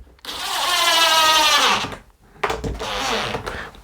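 A power drill drives screws into a handmade shaker-style wooden door, with two sustained whirring bursts separated by a short pause, close and loud.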